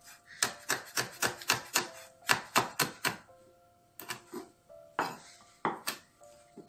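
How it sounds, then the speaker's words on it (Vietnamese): Rapid knife chopping of chili peppers on a cutting board, loud close sharp taps in quick bursts with short pauses between runs, no talking. "Ớt này mình băm nó ra nha."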